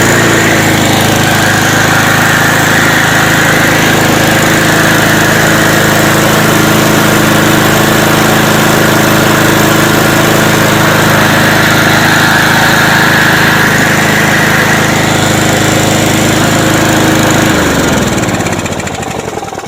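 A Briggs & Stratton engine on a stainless steel, vibration-damped lawn mower runs loud and steady at full throttle, a constant buzzing drone close by, then suddenly cuts out and winds down near the end.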